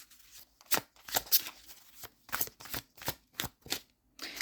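Butterfly oracle cards being shuffled by hand in a series of distinct riffling bursts, about ten quick papery flutters at a steady rhythm, close and fairly quiet with no talking.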